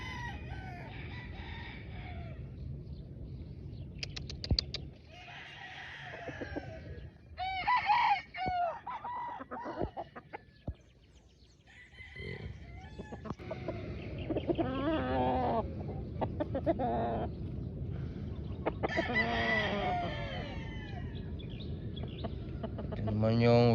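Young game-farm roosters (stags) crow repeatedly and cluck nearby, their calls overlapping at close range, while someone talks intermittently among them.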